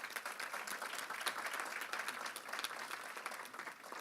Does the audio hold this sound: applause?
yes